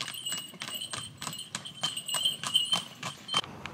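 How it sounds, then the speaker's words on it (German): Horse hooves clip-clop in a steady, quick rhythm, a dozen or so crisp hits close by, with no talking, in western Turkey. "Pferde."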